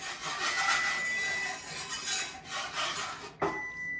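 A spoon scrapes and rubs steadily around a pot of egg yolk custard on medium-low heat, close and fairly quiet, ending with a sharp clink against the pot.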